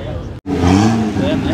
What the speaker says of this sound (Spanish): Qué hermoso suena ese C8